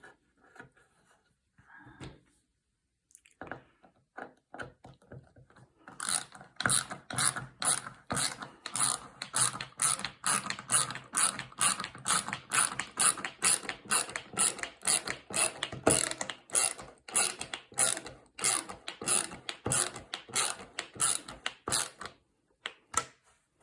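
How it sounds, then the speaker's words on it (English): Screws being tightened into a wooden nesting box, a long run of close, rhythmic ratcheting clicks from a screwdriver, loud and steady with short pauses. "just tighten up the last two screws"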